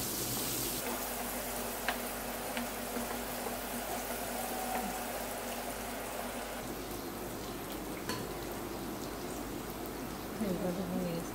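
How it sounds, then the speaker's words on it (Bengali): Onions sizzle in leftover oil in a pan while fish curry is being cooked, a steady soft frying hiss running continuously with a voice speaking over it. "আমি দিয়ে দিচ্ছি পেঁয়াজ। পেঁয়াজটা হালকা বাদামি করে নেব।"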